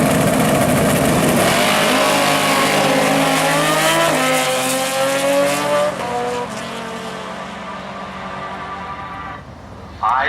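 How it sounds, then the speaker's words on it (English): Loud engines of a motorcycle and a Mustang roar and rev as they launch and accelerate hard down a drag strip, the pitch climbing before the noise fades into the distance. "He's on the motorcycle. Kim Niemeyer in the Mustang"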